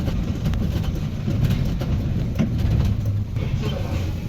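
A train passes at a railway crossing near Tiptur, its low, steady rumble and rattling wheels close by.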